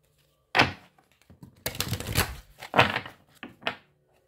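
Tarot cards are riffled and tapped in several quick, crisp bursts with thumps in between, close and fairly quiet, with no talking.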